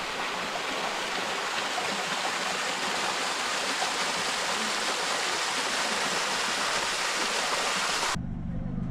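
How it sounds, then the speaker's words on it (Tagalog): A mountain waterfall on the Mt. Kotkot and Mt. Bukaw circuit roars in a dense, steady rush of falling water, loud and constant, cutting off abruptly near the end. "Guys, ito na po ang falls."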